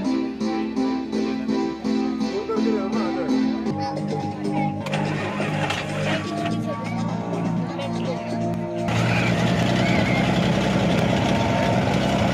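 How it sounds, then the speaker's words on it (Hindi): The oldest vintage car at a Jaipur vintage car rally, fitted with a tiny silencer, idles with a steady, loping engine chug that shifts pitch and grows rougher and louder, with people talking nearby. "ये सबसे ओल्डेस्ट कार है जो अभी ये चला रहे हैं।"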